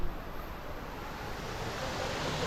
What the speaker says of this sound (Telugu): దారిలో కనిపించిన సెకండ్ వాటర్ స్ట్రీమ్.